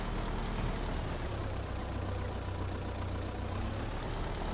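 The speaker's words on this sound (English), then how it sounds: "one thing I'll say about this little Belarus tractor, it is a good loader" A small Belarus tractor working as a loader in Farming Simulator 22 rumbles at a steady low idle, its engine a dense, even drone throughout with no voices.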